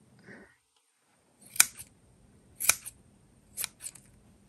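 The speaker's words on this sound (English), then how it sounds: "trim the ends so that they're all nice and even." Scissors trim the yarn ends of a chunky crochet shawl in three sharp, close snips about a second apart, preceded by a faint rustle, in an otherwise quiet room with no talking.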